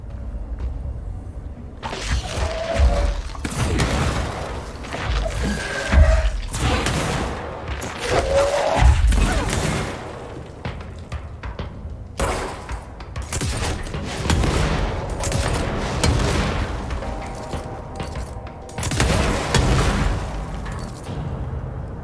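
Explodopods bursting in a video game: repeated booming explosions and pops in loud clusters, separated by brief lulls, with no voices.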